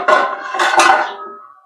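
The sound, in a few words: lid being put on a pot on the stove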